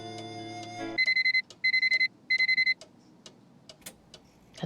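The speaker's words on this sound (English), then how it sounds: "Let's just set the alarm for 8 a.m." An alarm clock in a Nancy Drew video game rings in three rapid bursts of electronic beeps, loud and clear after a brief musical tone, then soft ticking follows.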